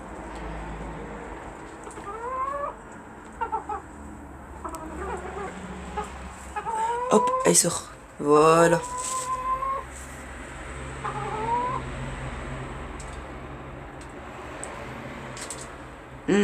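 Pekin hens cluck and squawk intermittently nearby inside a vegetable-garden greenhouse over a steady background hum, with a brief spoken remark partway through.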